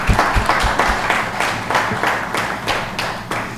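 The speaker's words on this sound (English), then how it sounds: "Big applause for him." Audience applause at a student debate competition finale, a loud sustained wash of many hands with distinct rhythmic clap accents and low thumps running through it, no voices over the top.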